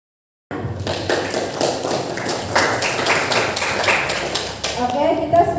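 An audience applauding at a school student council election event, a crowd of light, fast claps starting abruptly and continuing steadily, with voices mixed in.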